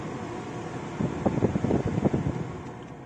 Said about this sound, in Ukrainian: Так, клімат, контроль, вентилятор